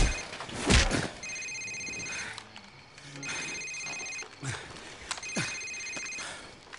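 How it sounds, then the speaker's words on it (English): Cell phone ringing in Call of Duty Modern Warfare, a bright electronic ring that repeats in three bursts at even intervals, near and clear among scattered thumps and movement. "Sir, it's his cell phone."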